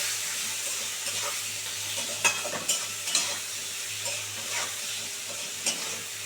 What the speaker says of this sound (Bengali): যে আলুটাকে আবার সুন্দর করে ভেজে ভেজে মানে একটু ভাজা ভাজা করে নেব